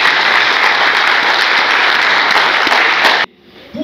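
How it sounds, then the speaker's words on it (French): An audience at a university event in Dschang, Cameroon, applauds loudly and steadily for about three seconds, dense clapping close by that stops abruptly, leaving near silence. "Je voudrais encore des applaudissements."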